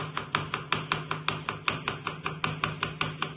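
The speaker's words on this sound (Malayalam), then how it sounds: "അതാ സവാള സ്ലൈസ് ചെയ്തു" Onion sliced on a cutting board with a knife, a quick, even run of sharp chops against a steady low hum, with no voices.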